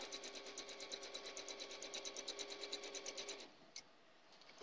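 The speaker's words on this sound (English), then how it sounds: "So I am just sewing a 1/4 inch away from that line that I've marked." A sewing machine stitches quilt pieces in a fast, steady rhythmic whir of needle strokes for several seconds, then stops, leaving a couple of faint clicks.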